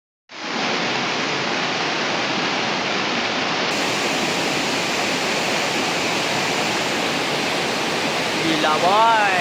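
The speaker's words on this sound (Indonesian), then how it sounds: "Kalian dengerin suara air terjunnya." Tumpak Sewu waterfall roars as a loud, dense, unbroken rush of falling water. It starts suddenly and holds steady to the end.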